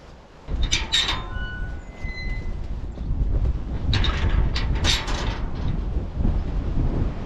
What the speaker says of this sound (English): The wind has picked up a little bit while I've been here.